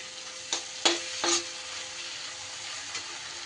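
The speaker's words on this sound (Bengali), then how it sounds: "মশলা কিন্তু বেশ ভালো করে আমার কষা হয়ে গেছে।" Spice masala with ground coriander cooking in a pan for a vegetarian jackfruit curry, a soft low sizzle with a few sharp scrapes of a spatula near the start and one later, no voices.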